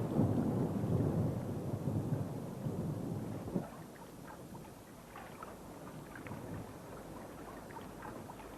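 A heavy, steady thunderstorm downpour over mountains roars continuously, with a low rumble swelling early on and fading into a softer, pattering wash of rain.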